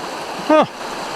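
Flood water rushes steadily through a flooded maple sugarbush as a constant broad wash, with a brief tonal call rising over it partway through.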